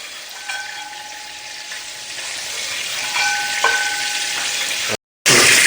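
Spices sautéing in hot oil for a hotel-style chicken curry, a steady close sizzle with occasional stirring scrapes, a brief gap near the end before the frying resumes loudly.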